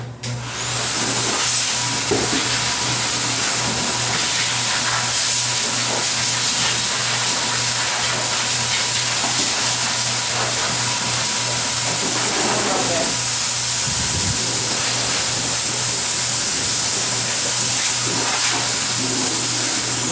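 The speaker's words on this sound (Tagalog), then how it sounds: "ibablower din natin ang kanyang kulungan" A pet blower dries a cat's cage during full grooming with a loud, steady airy roar and hiss that holds at a constant level from start to finish, close up.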